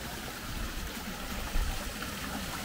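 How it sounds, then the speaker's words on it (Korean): Water flows and splashes softly at a beachfront resort swimming pool in Phuket, a steady low wash with a brief louder gurgle midway, faint and without talk. "물소리가 아주 좋습니다."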